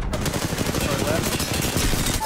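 Rapid automatic gunfire from the Apex Legends battle royale game, loud dense bursts of overlapping shots rattling continuously and up close.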